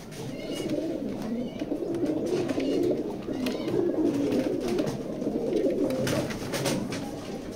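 Pigeons cooing steadily in a loft, a dense, continuous murmur of overlapping coos from several birds close by, with no voices.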